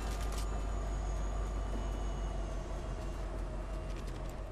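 A train rolling past in Fortnite, a steady low rumble with faint mechanical hum and scattered light clatter, continuous and fairly quiet throughout.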